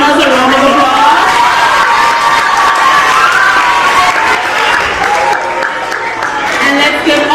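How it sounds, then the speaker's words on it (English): An awards ceremony audience applauds and cheers for honor students, a loud, steady crowd wash with mingled voices and shouts running unbroken throughout. "Let's give our tall class honors a round of applause."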